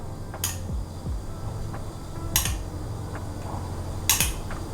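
A spoon scooping pizza sauce onto a pizza base for a Weber kettle barbecue, with three short metallic scrapes and clinks spaced apart over a quiet, humming background.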